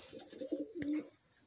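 An imported-bloodline Teddy pigeon gives a single close, throaty coo lasting under a second, set against a constant high-pitched electronic whine and faint room noise.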